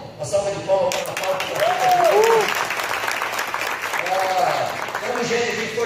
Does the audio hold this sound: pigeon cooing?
no